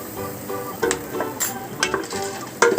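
Popcorn is stirred with salt in a pan at home, with rhythmic scraping and light metallic clinks of a spoon over a faint sizzle, close up with no talking.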